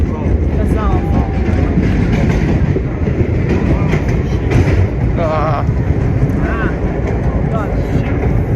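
Vintage R1-9 museum subway car on a holiday ride from 2nd Avenue to 96th Street, a loud steady rumble with wheel squeals throughout and people talking over it.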